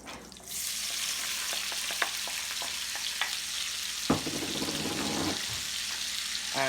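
Peppers sizzling as they fry in a pan for Italian sausage and peppers, a constant close hiss punctuated by several sharp stirring clicks and scrapes.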